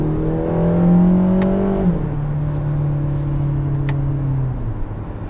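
A 2019 Acura TLX engine accelerates hard, its rising whine sweeping upward and then shifting pitch as the second cam engages at 5,000 rpm, followed by a steady higher drone and another shift near the end.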